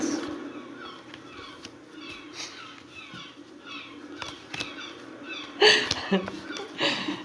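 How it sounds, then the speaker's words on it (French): Seagulls cry out in the distance with short, squealing calls, rising toward the end above a soft outdoor background at night, with French speech. "Ah, vous entendez les mouettes?"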